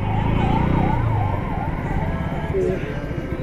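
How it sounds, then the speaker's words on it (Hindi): A police siren wails in rising and falling sweeps over traffic noise, fairly close and loud, then fades as a short horn-like tone sounds. "ये देखो भाई सायरन।"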